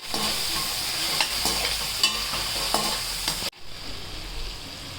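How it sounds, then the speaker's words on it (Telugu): Tomatoes cook in a pan for gongura pulao, giving a steady close sizzle broken by stirring clatters, then a sudden drop to a quieter, muffled simmer as if a lid goes on. "తర్వాత మనం టొమాటోస్ వేసుకోవాలి ఇందులోనే."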